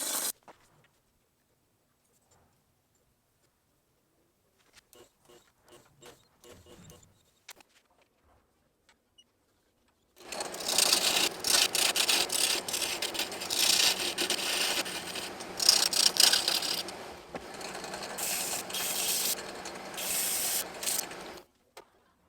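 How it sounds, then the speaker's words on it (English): A wood lathe does off-axis turning with a square carbide bit, making a steady, fairly loud scraping and rasping cut that runs for about ten seconds. Softer knocks and handling sounds come before it. "When doing any off-axis turning, you want to plunge in with your square carbide bit very slowly"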